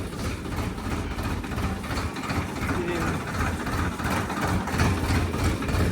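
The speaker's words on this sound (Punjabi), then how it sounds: "ਲਓ ਜੀ ਟਰੈਕਟਰ ਕੱਢ ਲਿਆ ਸੀਗਾ" A tractor just driven out runs with a continuous low, rumbling diesel idle close by, steady throughout, with faint voices mixed in.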